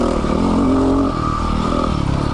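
A Yamaha WR250R dual sport motorcycle revs hard and accelerates on a rocky trail, its engine loud and close with a rising buzzy whine and some clatter throughout.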